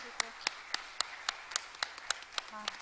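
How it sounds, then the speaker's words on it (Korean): An audience at a 2018 theology forum session claps for the speakers, a sparse, rhythmic round of hand claps at steady intervals, moderately loud, with a voice speaking underneath. "우리 이 두 분에게 또 우리 하태순 교수님까지 박수 한번 해드리고"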